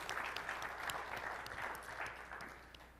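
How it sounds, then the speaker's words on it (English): An audience at a software developer conference claps in a faint, distant, steady roll of applause that slowly fades, no voices over it. "can we give them a round of applause?"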